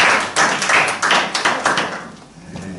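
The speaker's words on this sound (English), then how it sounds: "Let's clap for him." A small group claps for a newly welcomed PWC member, a close burst of several rapid overlapping claps that thins out and fades over about two seconds.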